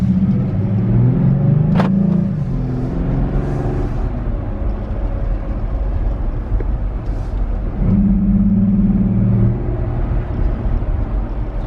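Jeep Gladiator engine fitted with an S&B cold air intake, a deep steady rumble close by with a couple of rising revs, throaty and continuous with no talking.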